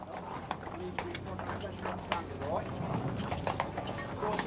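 Horses of a mounted cavalry escort at a state visit clip-clop in a steady, busy rhythm, heard beneath continuous spoken commentary.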